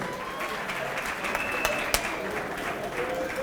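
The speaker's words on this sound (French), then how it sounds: "Est-ce qu'on peut encourager les candidats par des applaudissements, s'il vous plaît?" An audience at a political platform conclave in Kinshasa applauds the candidates with steady, dense clapping from a large crowd throughout.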